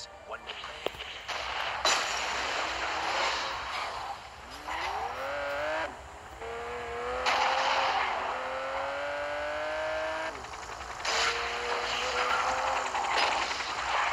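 A vehicle drives in Gangstar Vegas: a whining engine pitch repeatedly sweeps upward as it revs and shifts, with tire noise and sharp bangs scattered through, loud and close, while someone talks over it.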